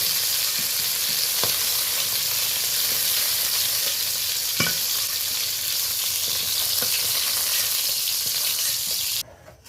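A second batch of pointed gourd (potol) frying in oil until lightly browned: a continuous, close, loud sizzle with a few faint stirring clicks, cutting off abruptly at the very end.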